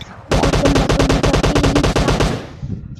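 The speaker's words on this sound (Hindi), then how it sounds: "मैंने उसको 2-4 शॉट्स मारे पर उनमें से थोड़े बहुत मिस भी हुए" Pistol gunshots in a video game team deathmatch, a rapid run of about twenty close, loud sharp shots fired in quick succession, then a short tail fading out.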